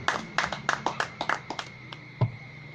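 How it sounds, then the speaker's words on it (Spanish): A short burst of hand clapping at a church service, several sharp claps in a loose rhythm fading out, with a low thump near the end. "dar unas fuertes palmas a nuestro Señor Jesucristo"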